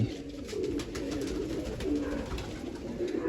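Pigeons coo softly and repeatedly nearby, their low throaty calls overlapping against a faint background hiss.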